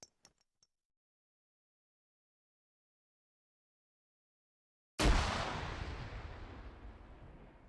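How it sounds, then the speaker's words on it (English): A hand grenade detonates during squad training: after a few faint clicks and a long silence, one loud, close blast bursts out and its rumble slowly fades away. "Frag out."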